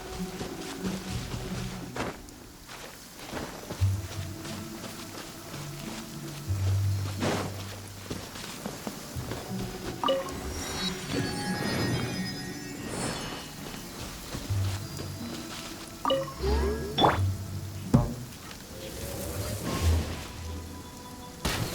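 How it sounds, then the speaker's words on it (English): Steady rain falls in the Genshin Impact video game, with patter under scattered low thumps and other game effects throughout. "Don't stay out in the rain for too long."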